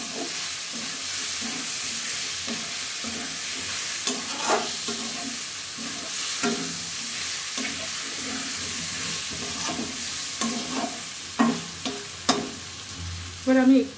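Mushroom curry with garam masala stir-fried in a pan, with a steady frying sizzle and repeated spatula scrapes and knocks that grow sharper toward the end, close up, no talking.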